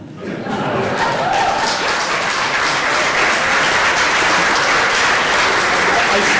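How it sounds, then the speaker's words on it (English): An audience applauds at an award presentation during the Antioch reunion in 2010. Dense, loud clapping swells in within the first half second and continues steadily to the end. "I see building lawyers back there applauding."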